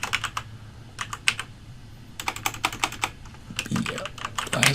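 Fingers type on a computer keyboard, entering text into a spreadsheet cell in quick clattering bursts of keystrokes separated by short pauses, close and clear.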